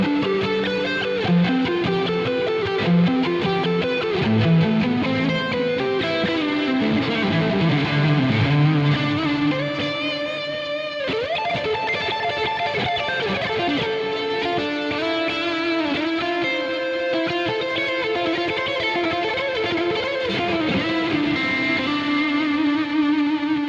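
Electric guitar through an amp plugin with compressor boost and clean boost in front, plus reverb and other effects, playing a continuous distorted melodic line with sustained notes, loud and steady throughout with no talk.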